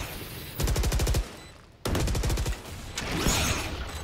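Video game gunfire rattles in rapid bursts: a quick string of shots, a short pause, then another burst, followed by a noisier blast of action, loud and close with no talking.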